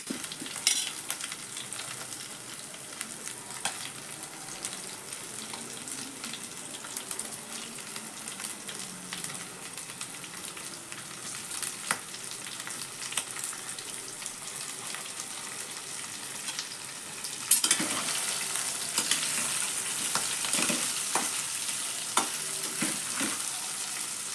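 Chopped ridge gourd goes into a pan of browned, fried onion for a stuffed ridge gourd bhaji, giving a long, even sizzle with occasional stirring scrapes that grow slightly louder near the end, with no voices.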